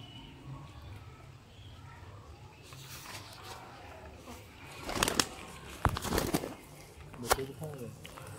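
Rooftop pigeons of the Sialkoti breed, with soft, faint cooing under a low background hum and several sharp bursts of wing flapping close by near the end.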